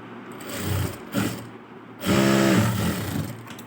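A sewing machine stitching a patch onto an embroidered blouse, running in short close bursts of whirring with a steadier, louder run near the end and no talk over it.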